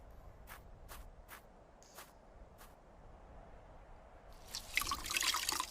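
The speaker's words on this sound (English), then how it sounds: "The shirt is dripping." Water dripping from a wet shirt in an adventure video game, several sharp, evenly spaced drips, followed by a brief louder splashing trickle, quiet and close with no talk.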